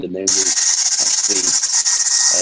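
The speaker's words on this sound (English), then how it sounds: "actually use a hairdryer, sorry for the noise," A hairdryer blows steadily to stick a foam dressing onto a horse's wound, its loud continuous airy hiss running throughout while someone speaks briefly over it.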